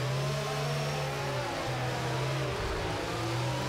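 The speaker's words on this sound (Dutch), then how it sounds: "Maar die Ferrari motor is snel." Ferrari Formula 1 engine in the racing game F1 22, a steady high-pitched whine holding one pitch with a brief dip near the end, continuous and fairly loud with no talk.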